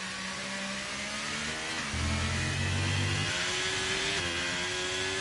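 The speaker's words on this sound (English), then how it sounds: "You hear the downshift into 6 for that turn." F1 car engine in a racing video game during a Dutch GP qualifying lap: a loud, continuous high-pitched whine that drops in pitch on a downshift, then climbs steadily again, with no talk.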